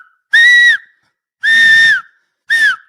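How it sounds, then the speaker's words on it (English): Three loud, shrill finger whistles, each a steady high tone held for about half a second, separated by short silences. "I can whistle with my fingers loudly"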